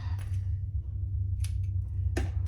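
Scissors snip the strap ends of a crossbody bag, two or three crisp, close cuts against a steady low hum with no voices.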